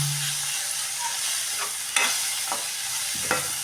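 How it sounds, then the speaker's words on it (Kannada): A potato curry dusted with Maggi powder gets stirred in a pan on the stove: soft scraping strokes of a spoon sound over a quiet, steady sizzle, with a few louder knocks against the pan. "ಇವಾಗ ನಾವು ಇದನ್ನು ತಿರುಗೋಣ"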